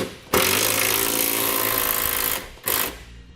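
A 1/2 inch socket on an impact or power driver tightens a nylon lock nut on a bracket for Carr LD custom fit side steps on a 2009 Dodge, giving a loud sustained buzzing whir, then a brief second burst after a pause.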